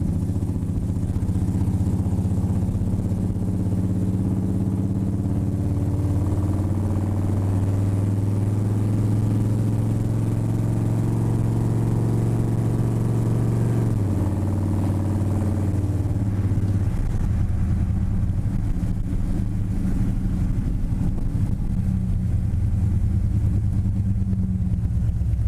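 A 1949 Shoebox car with added electric power steering rumbles steadily around a corner, its low engine drone shifting pitch midway with some clatter, heard from inside the car without talk.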